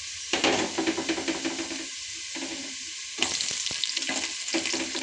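Chopped potato, beans, cucumber and carrot tipped into hot oil in a frying pan for vegetable palav: loud bursts of sizzling and hiss with stirring clatter, dropping back before a second strong sizzle surge, no voices.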